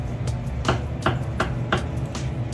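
A razor-sharp knife chops herbs on a small cutting board: six crisp, evenly spaced strikes land close by, each a short bright knock over a steady low kitchen hum, with no talking.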